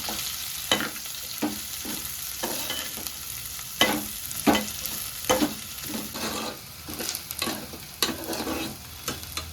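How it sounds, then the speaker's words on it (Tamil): Small onions (shallots) crackle and sizzle in hot oil while cooking prawn gravy, with a steady frying hiss broken by repeated scraping stirs at an uneven rhythm, close up. "வெங்காயம் நல்லா வதங்கி சுருங்கி அந்த எண்ணெயோட சலசலப்பெல்லாம் கேட்குது"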